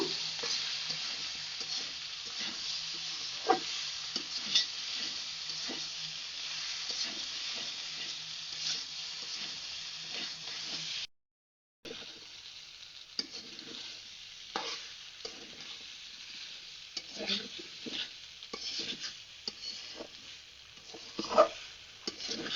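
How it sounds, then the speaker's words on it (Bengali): Beef fries in a pan over medium heat under a steady sizzle, with a spatula repeatedly scraping and stirring the meat; a brief silent gap interrupts before the frying and stirring resume. "এবার আমি আস্তে আস্তে করে মিডিয়াম জালে এটাকে নাড়াচাড়া করব"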